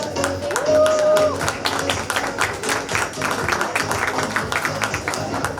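An audience claps steadily at a student tutorial's annual function, a dense, continuous patter of many hands with a brief tonal whine near the start and faint voices mixed in.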